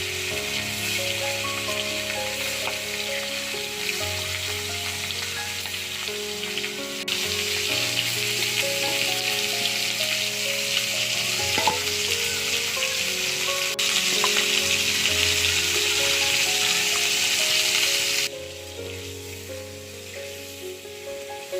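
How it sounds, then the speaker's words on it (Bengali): Shol fish frying in hot oil, a dense, continuous close sizzle and crackle that swells louder midway and then drops back, with faint tonal music underneath and no talking. "তেলটা আমার গরম হয়ে গিয়েছে, এবার মাছগুলোকে এক এক করে ভেজে নেব।"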